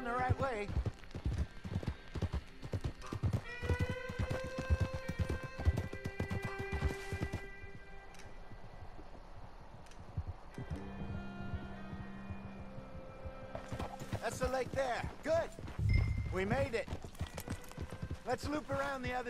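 Horse hooves clip-clop in the Red Dead Redemption 2 game, a steady trotting rhythm with game music and other sounds around it, while a voice talks over parts of it.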